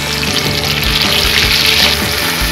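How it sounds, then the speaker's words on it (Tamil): Kerala-style fish roast frying in a pan, a loud dense close sizzle of hot oil crackling steadily throughout with bubbling pops. "நம்ம மீனை வறுக்க வேண்டியதுதான்."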